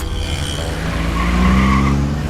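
A car pulls away in a Tamil action film scene dubbed into Malayalam, its engine rising as the tires squeal and skid. The sound is loud and close and lasts a couple of seconds, with a steady engine drone beneath a rising tire screech.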